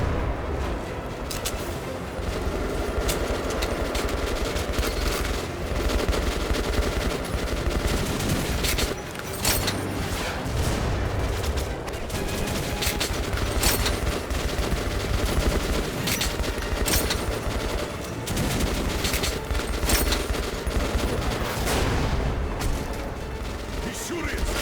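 Gunfire and explosive salvos in Metro Last Light, a dense, loud, continuous barrage of shots and booms running throughout with mechanical clatter and voices underneath.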